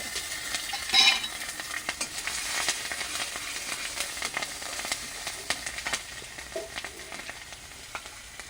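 Cumin seeds and chopped green chili sputter in hot oil, a steady close sizzle with stirring clatter and a sharper crackle early on.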